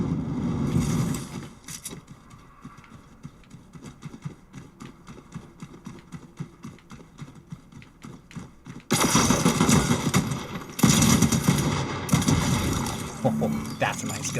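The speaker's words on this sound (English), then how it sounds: "Okay, I hear gunfire over here." Rapid gunfire bursts from a Fortnite match, sharp repeated cracks that grow louder and denser partway through, mixed with game effects and footstep-like clatter.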